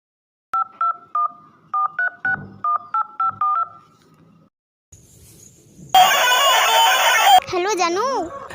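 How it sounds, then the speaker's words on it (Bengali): Phone keypad tones beep in a quick irregular sequence of short dual-pitch presses as a number is dialed in a park, followed by quieter sounds and a loud burst of rooster-like crowing. "পার্কে তো চলে এলাম, দেখি জানুকে ফোনটা করি কত দূরে আসছে।"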